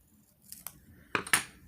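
Scissors snip through paper for a craft project, two or three quick crisp cuts close by in a quiet room, brief and alone.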